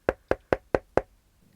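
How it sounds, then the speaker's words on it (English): Five sharp knocks on a front door come in quick, even succession, crisp and fairly close, with nothing else heard. "She heard someone knocking at the front door."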